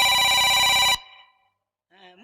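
A telephone rings loudly with a rapid electronic trill for about a second, then cuts off into silence before a faint voice begins, heard during a Ramlila stage performance.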